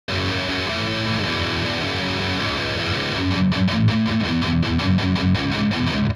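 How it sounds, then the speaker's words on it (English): An electric guitar plays the end of the chorus of a song, starting with sustained distorted strumming and then switching to tight, rhythmic palm-muted chugs, loud and upfront with no talking. "it goes from regular strumming into palm muting"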